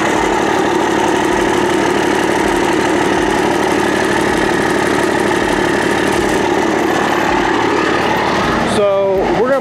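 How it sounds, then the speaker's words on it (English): A 1996 Dodge Cummins diesel truck idles at low RPM, close and loud, with a steady throbbing drone and a faint rhythmic rattle running through it, ending with a brief higher whine. "he has a slight rattling when it's at low RPMs"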